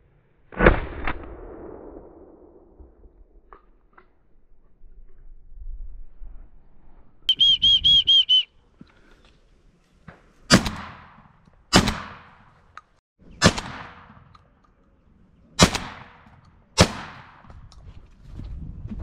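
Shotguns fire during a thrush hunt, sharp loud blasts with ringing decay. One opens the scene, then after a quiet stretch and a brief whistle, six more shots follow at roughly even intervals.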